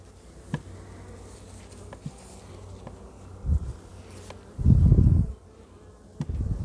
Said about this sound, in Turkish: Arılar da sabahtan beri çok güzel çalışıyor.